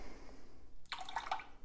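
Water is poured into a bowl of sourdough starter, a brief bright splashing trickle up close that follows a quiet moment.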